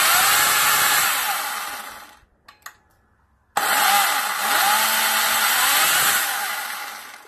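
Cordless battery chainsaw with a loose chain, whining loudly as the trigger varies its speed. It runs for about two seconds, stops briefly with a few clicks, then spins up again with the pitch rising and falling. No voices.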